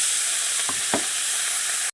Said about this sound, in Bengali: তেল দিয়ে দিয়েছি, তেলটা গরম হয়ে গেছে, এবার চুনো মাছগুলো আমি সব ভেজে নেব।